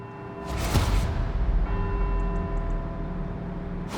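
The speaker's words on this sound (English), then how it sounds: "let's see if we can visit every bell tower in Edinburgh and get back here before they all stop ringing" Church bells ring across Edinburgh in Forza Horizon 4, with resonant tolls sounding over a steady low engine hum and a few faint high clicks partway through.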